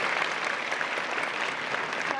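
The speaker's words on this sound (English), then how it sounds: "They're clapping for you" Audience applause at a women's seminar, a steady dense clapping from a crowd filling the whole moment without a break.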